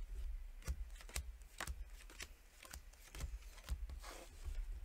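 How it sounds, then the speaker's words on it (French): Playing cards are dealt one by one in the French card game Papillon, making soft, close snapping flicks at a loose, irregular pace in a quiet room. "je vais distribuer de nouveau quelques cartes"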